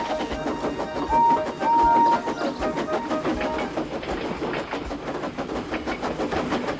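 A steam engine pulls a train in the Trainz simulator, rolling steadily along with rhythmic clickety-clack and chugging, continuous and fairly close, with brief whistle-like tones early on.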